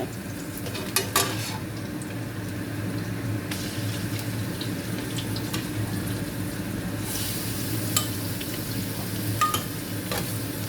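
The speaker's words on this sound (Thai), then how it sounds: "ใส่หมูสับ แล้วก็ผัดให้สุก ผัดให้สุกนิดหน่อยนะคะ" Minced pork and garlic stir-fry in oil in a pan, a continuous loud sizzle with scraping stirs and occasional utensil clinks against the pan.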